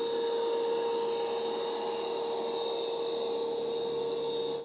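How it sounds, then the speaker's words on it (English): An Ecovacs Deebot X8 Pro Omni robot vacuum hums steadily with a high-pitched whine and a constant brushy whir, running evenly without any speech until it fades out. "You are gonna hear this vacuum when it's vacuuming just like you would any other robot vac."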